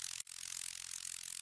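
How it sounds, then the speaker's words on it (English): Crunchy erosion-processed noise effect played at the drops of an electronic song: a steady bright hiss with gritty texture and a brief dropout near the start, quiet and alone. "Here's the noise that plays for every little drop I have, peak moments of this song"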